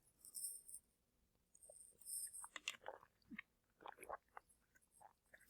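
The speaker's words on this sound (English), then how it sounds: "sorry for the swallowing sounds there" Gulping and swallowing sounds come from someone drinking water close to the mic, a few soft wet gulps and throat clicks with quiet pauses between them.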